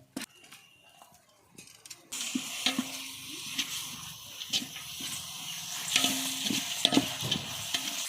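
Mint and coriander paste is sautéed in a pan for dum biryani. After a quiet start with a few clinks, a loud sizzle bursts in and continues under intermittent stirring scrapes.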